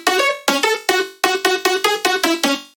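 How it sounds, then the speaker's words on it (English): A bright, buzzy synth layer from a brown noise wavetable in Vital, plucked in a quick rhythmic pattern of about ten repeated notes, each sharp onset fading fast, loud and alone. "This is just this brown noise wavetable from Vital."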